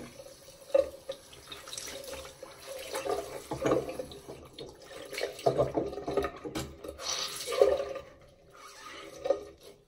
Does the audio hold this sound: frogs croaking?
no